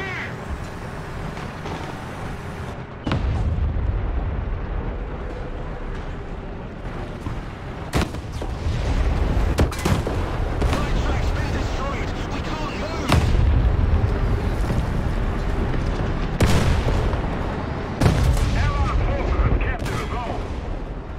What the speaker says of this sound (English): The enemy is preparing to barrage our square!